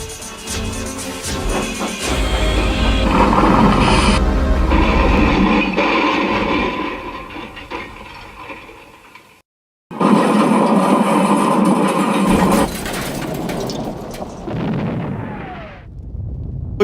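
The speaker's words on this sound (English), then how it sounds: "explosion was everywhere." Steam train crash with a petrol truck explosion, a long rumbling roar of crashing and blasting that runs loud for several seconds, cuts to a brief silence, then bursts back with further booming and debris before fading.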